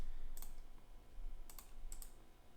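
Several crisp, short mouse clicks while modeling in Rhino: a single click, then a quick pair a beat later and a final double click, close and fairly faint over a quiet background hum.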